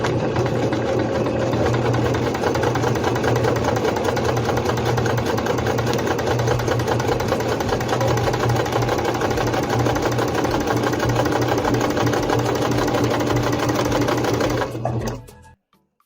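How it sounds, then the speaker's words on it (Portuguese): A Singer C5605 electronic sewing machine stitches fabric with a tight stitch, running as one steady, loud, fast mechanical whir for about fifteen seconds before it stops abruptly. "Vou fazer uma outra costura, porém com o ponto bem apertado."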